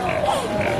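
A short, nasal pig-like oink-grunt, most likely a person's voice imitating a pig, at an animation session at Disney's Animal Kingdom, rising over a steady hum of room noise in under a second.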